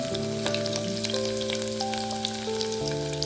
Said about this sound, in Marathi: आणि तेल पण गरम असल्यामुळे मी टाकते कांदे.